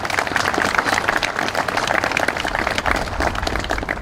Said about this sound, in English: Give them all a round of applause too, please.